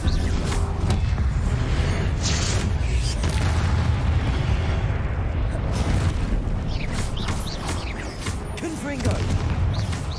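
Confringo blast spells explode in a Hogwarts video game, with repeated booming bursts and crackling detonations over a constant dense wash of game noise and effects.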